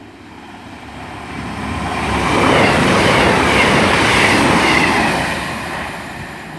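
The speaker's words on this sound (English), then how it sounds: "passing through now is a cross-country service to Bournemouth from Manchester" A Cross Country passenger train from Manchester Piccadilly to Bournemouth runs through Beaulieu Road station. Its rumble swells to a loud, steady roar as it passes close by, then slowly fades away.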